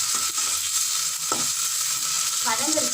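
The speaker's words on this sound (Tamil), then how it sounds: "அப்போ தான் சீக்கிரமாக வெங்காயம் தக்காளி நல்லா வதங்கும்" Onion and tomato fry for an egg gravy, a close, bright sizzle with spoon stirring scrapes and clinks against the pan.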